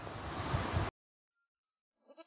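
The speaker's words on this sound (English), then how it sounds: "Goat." A single goat bleat, loud and close, followed by silence and then a brief second bleat starting near the end.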